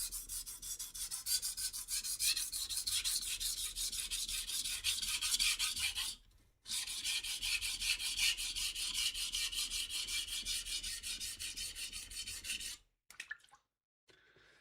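Steady rhythmic scraping of a blade bevel being honed on a 400 grit sharpening stone, close and continuous in fast back-and-forth strokes, with a brief pause midway and a stop near the end.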